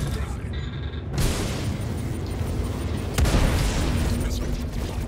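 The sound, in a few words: missile explosion in video game Star Citizen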